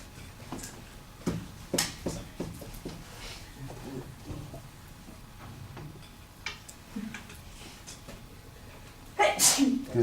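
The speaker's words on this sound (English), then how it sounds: "Sneeze?" A single loud, sharp sneeze bursts out near the end, after a stretch of quiet room sounds with scattered ticks and knocks.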